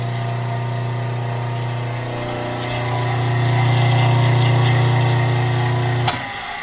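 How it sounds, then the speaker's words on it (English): An old Delta bandsaw runs with a steady, loud motor hum and a faint rattle from the loose back clamp on its fence, ending in a sharp click and a drop in level just after six seconds. "That rattling noise is the back clamp on the fence."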